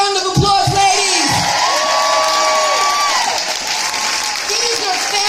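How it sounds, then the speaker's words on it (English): Crowd at a get-out-the-vote political rally claps and cheers in a loud, sustained burst, with whoops and a voice speaking over the noise. "let's give them a round of applause, ladies"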